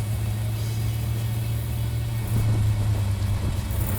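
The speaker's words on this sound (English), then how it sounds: "driving down the road, I'm doing about 40 miles an hour down Main Street, third gear" A 1970 Plymouth Road Runner convertible cruises at about 40 mph in third gear down a town main street, its engine holding a steady low rumble alongside road noise throughout.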